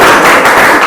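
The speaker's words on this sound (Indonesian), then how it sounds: "berikan tepuk tangan oleh teman kalian" Students in a classroom clap for a classmate, a loud, close, dense burst of hand clapping lasting under a second.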